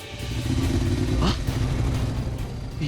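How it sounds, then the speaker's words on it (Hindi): Motorcycle engine drawing nearer with a steady low rumble and a brief rising rev near the middle, loud and close against a dense mechanical background with no talking. "तो बाइक की आवाज थी।"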